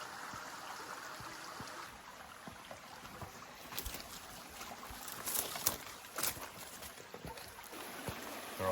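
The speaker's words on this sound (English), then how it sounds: "Alright, so we've just got our first little cascade down here." Small cascade in a rainforest creek with crystal-clear, low-flow water, a faint steady trickle and babble heard close, broken by a few louder splashes and knocks.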